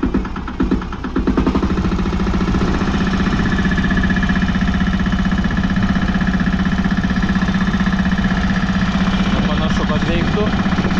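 A 500 kg vibrating plate compactor works around posts, its engine a loud, steady close drone with rhythmic mechanical vibration after a brief start-up burst, and a voice briefly speaks over it.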